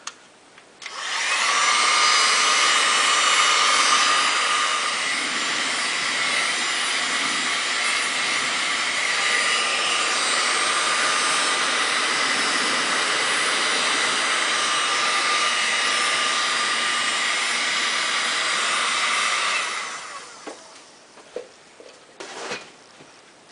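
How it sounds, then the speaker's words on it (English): A heat gun blows a steady, loud whooshing roar while drying the surface of a pottery clay slab for a square bowl, running for about twenty seconds before cutting off, followed by a few faint handling knocks. "what I want to do is just to dry the surface of that out so it'll hold its shape when I take it off. So what I use is just a heat gun"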